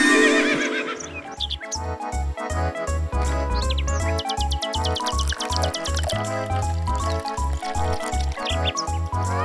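A loud horse whinny opens, followed by a rhythmic clip-clop of hooves and chirping birds, part of a toy riding-stable scene with animals being fed treats.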